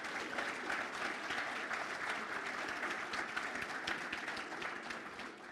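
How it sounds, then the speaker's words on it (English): Sustained applause from an audience at a fire department's annual awards banquet, dense steady clapping filling the hall at even loudness throughout before easing slightly at the end. "Let's give Katie a round of applause for helping us out tonight."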